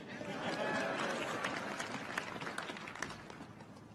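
An audience cheers and applauds at a governor's inauguration in a steady wash of crowd noise and clapping, with a voice audible within the crowd.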